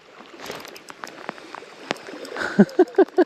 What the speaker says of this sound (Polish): Oj, ten deszcz.